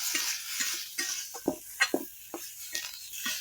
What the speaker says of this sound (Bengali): পটল ভাজা করছি জানো